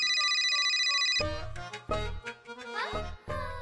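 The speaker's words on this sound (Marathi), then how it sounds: "अण्णा दादाचा फोन" A mobile phone ringtone sounds for an incoming call, a steady electronic tone for about a second, then a loud melodic ringtone tune plays on in short notes, close and clear.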